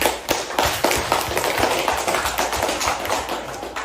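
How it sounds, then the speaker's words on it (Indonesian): Elementary school pupils clap together in a classroom, a loud run of uneven, closely spaced hand claps lasting several seconds. "Tepuk tangan yang meriah."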